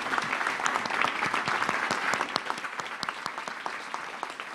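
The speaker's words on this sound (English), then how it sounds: "Another round of applause for this amazing panel." Moderate applause from an audience for a keynote panel at a narrative conference, individual claps distinct in a fairly quiet, steady round.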